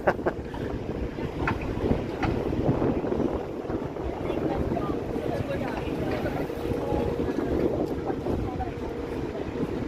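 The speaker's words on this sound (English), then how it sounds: "Is gusty, but still t-shirt weather gusty" Gusty wind buffets the microphone on a warm Toronto city street, a steady low roar that swells and eases through the stretch with no clear voices over it.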